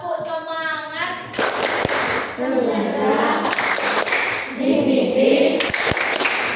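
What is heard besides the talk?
class doing a rhythmic spirit clap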